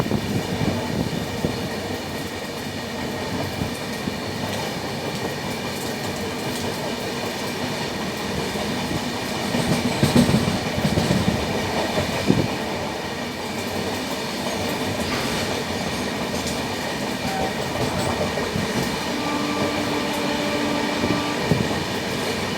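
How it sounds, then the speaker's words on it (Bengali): Samleswari Express 18005 pulling out of Kesinga station, a steady rumble of rolling coaches with wheel clatter and occasional squeal, continuous and fairly close, no voices. "কেসিঙ্গা থেকে বেরোলো বাজে 5:11"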